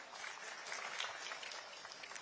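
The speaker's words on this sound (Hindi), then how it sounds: "इनकर पर भी जोरदार ताली से स्वागत हो जाए" Faint, distant applause from an audience at an outdoor government public-grievance camp in Chhattisgarh, a continuous patter of clapping lasting about two seconds.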